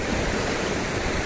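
Mountain river in Naran rushing over stones, a steady close broadband roar of white water with no pauses.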